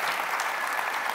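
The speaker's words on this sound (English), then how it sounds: "A round of applause for Andy." A brief burst of conference audience applause for Andy, dense and even, heard only for about a second.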